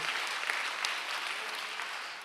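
A church congregation claps together during a Sunday service in a steady, even wash of applause, heard from a slight distance.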